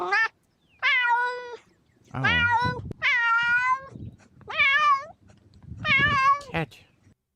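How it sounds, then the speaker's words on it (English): A cat meows clearly and repeatedly, six drawn-out, wavering calls with short pauses between them, close and loud, with a brief spoken exclamation near the start. "Cat."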